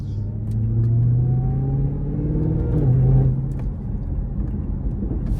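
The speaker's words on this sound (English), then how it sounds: "A little downshift never hurt anybody." A tuned Dodge Challenger Redeye engine revs up on a downshift in traffic, a loud close rumble with rising then falling pitch, then settling into a steady idle-like drone.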